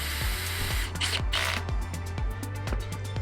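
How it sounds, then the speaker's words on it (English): A power drill drives a screw into a GoFoil 14.5 fixed tail wing, giving a close, rhythmic series of clicking pulses with a brief whirring burst partway through. "get my drill out."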